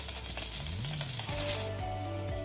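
Whole garam masala and green chillies sizzle in hot ghee, a dense continuous crackling hiss close by, joined by tonal hums that rise and fall beneath it.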